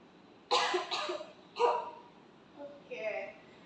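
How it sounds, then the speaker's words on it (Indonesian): A man coughs on instruction during an effective-coughing exercise for a saliva sample: a few sharp, close bursts in quick succession, followed by a softer breathy tail. "Tahan. Oke, batukkan."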